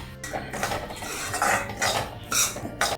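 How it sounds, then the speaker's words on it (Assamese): Semolina being dry-roasted in a pan with dried coconut powder for Assamese jun pitha, heard as steady scraping and clinking of a spoon against the pan, continuous and fairly close with no talking. "চুজিখিনি অলপ ভজা যোৱাত আমি ইয়াতে শুকান নাৰিকলৰ গুড়ি 2 চামুচ দি লম।"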